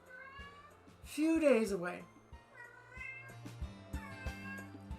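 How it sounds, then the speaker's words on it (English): A pet cat cries with a drawn-out, wavering meow, fairly close and loud, while a person talks quietly in the background and soft music plays beneath. "my cat is crying"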